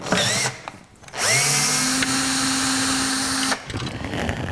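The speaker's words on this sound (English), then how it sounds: "start taking some of these bolts loose that I talked about on the other unit" A power drill works loose the metric Torx bolts on a DeWalt 788 scroll saw, whirring briefly, pausing, then running in one steady, loud, close burst of about two and a half seconds before winding down.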